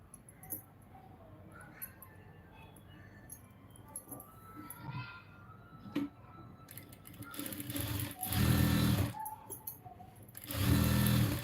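A sewing machine stitching a lined blouse runs in two loud bursts near the end, a rapid whirring clatter, after a quieter stretch with faint talk and small handling clicks.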